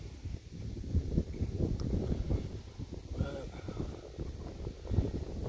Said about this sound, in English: It's kind of windy, so I hope you're not getting a whole lot of wind noise.